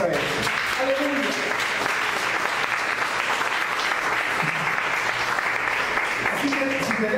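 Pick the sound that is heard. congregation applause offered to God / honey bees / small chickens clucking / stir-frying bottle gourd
congregation applause offered to God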